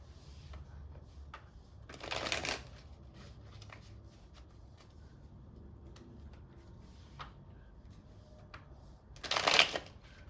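Tarot cards are shuffled in two brief, crisp riffling bursts several seconds apart, close and clear against a quiet room.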